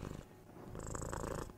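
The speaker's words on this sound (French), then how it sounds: "le ronronnement émet des fréquences basses, oscillant de 18 à 50 Hz" A cat purrs steadily and close up, a low rumbling vibration that continues without a break and grows a little fuller toward the end.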